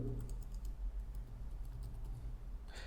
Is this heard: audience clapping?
no